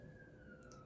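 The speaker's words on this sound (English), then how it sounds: "Siren." A siren sounds faint and distant as a single steady wailing tone that slowly falls in pitch over a brief moment, under low background noise.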